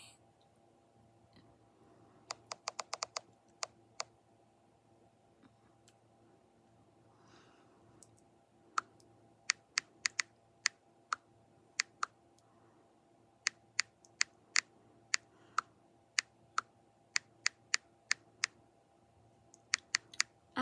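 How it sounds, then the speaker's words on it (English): Keystrokes on a computer keyboard while tags are typed in, arriving in scattered bursts and isolated taps of sharp, close clicks over a faint steady hum, with quiet pauses between runs. "this is me just typing in every single tag word there is that I could possibly think of at the time"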